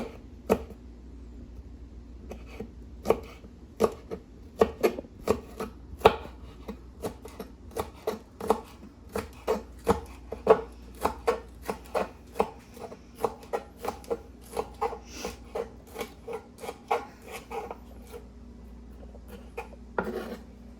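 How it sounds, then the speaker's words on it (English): A knife chops scallion on a cutting board for a Jamaican meal, with a long run of crisp, fairly regular taps that grow denser midway, close and moderately quiet, with no speech. "Cutting the scallion."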